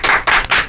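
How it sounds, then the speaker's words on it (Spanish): Three quick, loud bursts of handclapping from a few people in a radio booth, the rounds close together and evenly spaced. "le aplaudimos todos los que estamos en cabina"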